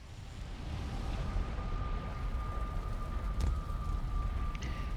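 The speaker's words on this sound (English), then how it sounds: "We have rain in the Mistlands." Steady rain hiss in the Mistlands area of a video game fills the scene with a low rumbling thunder undertone and a faint sustained tone; a brief crackle stands out midway. No voices.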